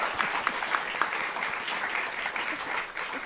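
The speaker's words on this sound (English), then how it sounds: "So big round of applause for them." Steady applause from a large audience at a panel discussion, dense and continuous clapping throughout with no pauses.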